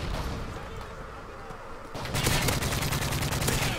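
Rapid gunfire in Call of Duty: Modern Warfare 3 crackles in dense continuous bursts over the game's busy background noise, growing louder and sharper halfway through.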